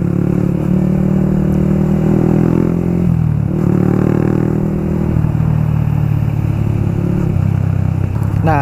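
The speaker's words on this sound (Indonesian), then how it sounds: "suara knalpotnya ngebas ya, nggak terlalu gacor" A 2018 Yamaha All New Vixion R motorcycle runs steadily nearby, its exhaust giving a deep, bassy, fairly mellow drone that dips and recovers as the revs shift, continuous and loud throughout.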